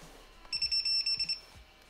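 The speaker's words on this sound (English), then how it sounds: "I like that beep. That sounds good." Series of short, bright electronic beeps from a 7-inch FPV quadcopter on arming, about ten quick tones in an even rhythm, close and fairly loud over quiet outdoor background.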